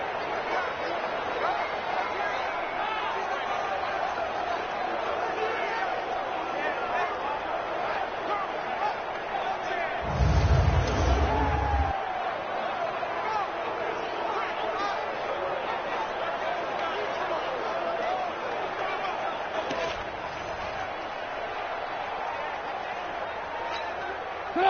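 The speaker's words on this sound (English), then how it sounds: "The crowd getting into it as we come up on a big 3rd down." Stadium crowd noise in Madden NFL 20 during a Packers vs. Bears game, a steady roaring wash of fans swelling ahead of a big third down, with a brief louder thump midway.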